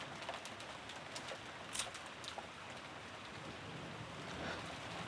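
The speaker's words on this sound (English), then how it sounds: "It's raining pretty hard out there." Heavy pouring rain from a visual novel game, a steady dense hiss throughout with faint scattered drips and taps, no voices present.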